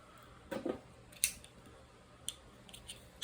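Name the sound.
scissors cutting fishing rod wrapping thread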